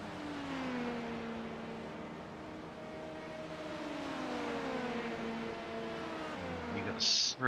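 Several LMP2 race cars in the iRacing sim at Road America roar past with rising and falling engine pitch, a continuous drone of engines layered over one another, with a short burst of noise at the end.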